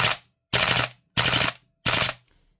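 A VMP-2 airsoft gas gun fires four separate sharp bursts in an uneven, slowing rhythm as it cools down and stops cycling fully. The shots are loud and close with no talk.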